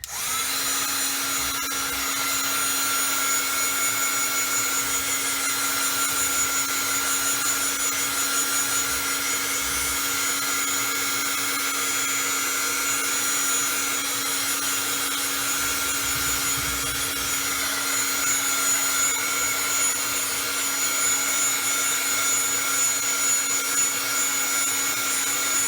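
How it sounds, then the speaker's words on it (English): Continuous, steady whirring hum of a heat gun blowing on inked paper to heat-set it, droning evenly with no breaks throughout. "I'm going to stop there and heat set this"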